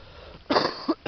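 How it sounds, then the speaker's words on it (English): A short burst of coughing, two or three rough, close coughs in quick succession from a person on a rainy day outing. "Sorry about my cough."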